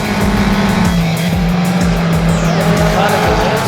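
Race cars in a 1600 Series event roar down toward turn one, with loud, continuous, near engine drone and a rising whine layered over a commentator's voice.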